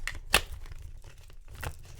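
A short, crisp riffle of tarot cards with a rough papery burst near the start and another softer shuffle later, close up, no talking.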